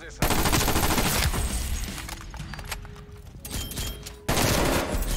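A new gun in the video game Vargo 52 fires loud, rapid automatic bursts close up, two long volleys with a brief gap of quieter game noise between them.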